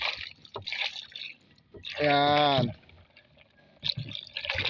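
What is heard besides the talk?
pouring clean water into a container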